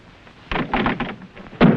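Pounding on a rotten wooden door in a 1958 television drama: a series of dull, heavy thumps in an uneven rhythm, close by, ending in one harder blow, with no talk.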